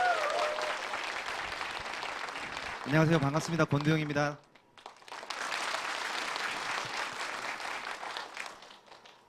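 A crowd at a retirement-planning lecture gives loud, full applause to welcome the head of the Korea Retirement Planning Institute. The clapping drops away briefly while he greets everyone, then rises again and carries on steadily.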